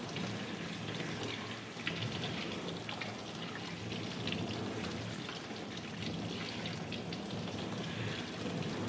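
Hot water running from a tap to rinse oil and degreaser off a K&N air filter for a BMW M2, a steady broadband splashing hiss that holds evenly throughout at moderate level.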